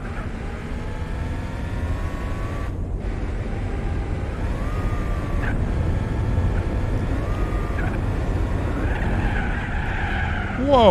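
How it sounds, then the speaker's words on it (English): A Dodge Ram truck drifting in Gran Turismo 4, with loud, sustained tire squeal and skidding over a droning engine, holding steady for about ten seconds. "I just went drifting in a Dodge Ram."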